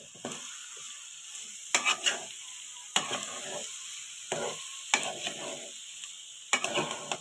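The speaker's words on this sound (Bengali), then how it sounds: "তোমরা এখন আমি এটাকে নাড়াচাড়া দিয়ে নেব।" Rice and vegetables are stirred in a frying pan over a faint background sizzle. Roughly eight quick scraping strokes land at uneven intervals, close and crisp, with no talking.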